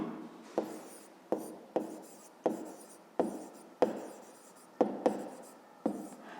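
A pen or pencil writes in a school notebook with repeated scratchy strokes, each starting with a tap and trailing off, close and fairly quiet, with no talk.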